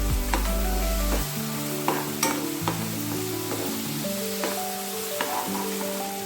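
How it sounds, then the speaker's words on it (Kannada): Chopped tomato fries in oil for an okra palya, a soft steady sizzle with occasional stirring clicks and scrapes, under background music and with no talk. "ಟೊಮೆಟೊ ಕೊಚ್ಚಿಟ್ಕೊಂಡಿರುವಂಥದ್ದು, ಚೆನ್ನಾಗಿ ಇದನ್ನು ಫ್ರೈ ಮಾಡ್ಕೊಳ್ಬೇಕು"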